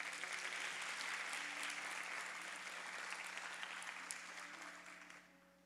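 A congregation at a church youth service claps together in sustained applause that gradually fades away toward the end.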